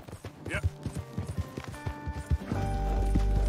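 Rhythmic clip-clop of horse hooves trotting steadily in Red Dead Redemption 2, up close, with occasional tonal game sounds and a low rumble rising at the end.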